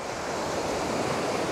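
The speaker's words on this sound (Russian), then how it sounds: "И, как всегда, большая волна." Large ocean waves breaking on Karon beach in Phuket, a continuous loud wash of surf with wind buffeting the microphone.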